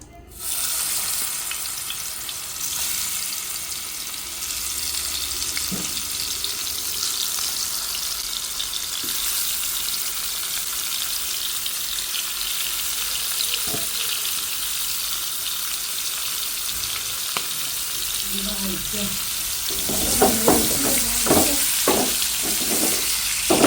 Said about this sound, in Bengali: একটা ইলিশ এখন পুরাটা ভেজে নিচ্ছি